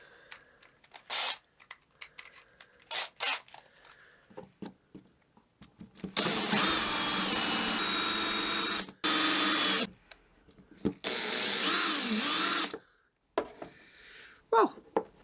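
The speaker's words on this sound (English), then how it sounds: "I grabbed the countersink and let's see how well they're" A countersink bit drills into wood in two loud sustained bursts of several seconds each, set between scattered handling clicks and knocks, close up with no talk.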